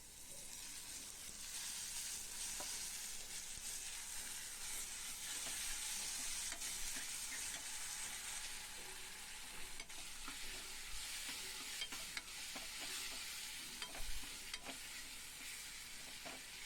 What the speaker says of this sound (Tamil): தக்காளி நல்லா குத்தி குத்தி விட்டு நல்லா வதக்கிடுவோம்.